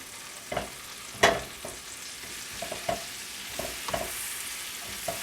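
Chopped garlic frying in a pan for beef bourguignon, a continuous close sizzle broken by several sharp stirring scrapes and taps.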